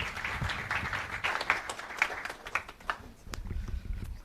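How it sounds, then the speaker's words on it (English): An audience at the opening ceremony of an Ayurveda congress and expo applauds in a moderate, uneven burst of clapping, with some sharper claps standing out nearby. "So big round of applause to welcome Pawan Kumar sir."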